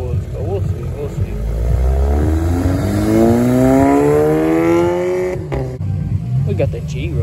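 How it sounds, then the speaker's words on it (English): An Audi pulls away from a European cars and coffee meet, its engine rising in a long, loud, close acceleration sweep, with a voice talking over parts of it. "We got the Audi rolling out."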